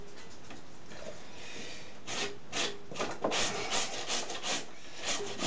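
Old potatoes are rubbed against a kitchen grater for chicken potato pancakes, giving a run of quick, rasping scrapes up close after a quiet opening.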